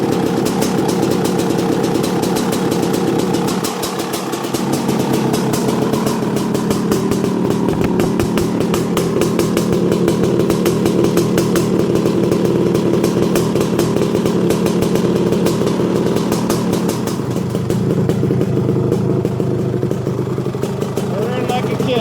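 Honda CR500 two-stroke dirt bike engine running loud and steady up close, with a rough rattling idle and brief throttle blips throughout, a voice speaking over it.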